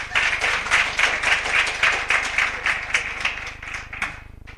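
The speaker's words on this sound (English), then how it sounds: "Can you clap for Sis Janet again?" Audience applause at a Nelson Mandela Day commemoration event, a dense sustained wash of many hands clapping at steady loudness for several seconds, fading slightly at the end.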